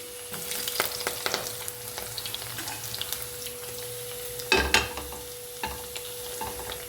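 Garlic fries in hot oil for a fish head curry, a steady sizzle broken by a few stirring clinks and a louder scrape partway through, with no talking.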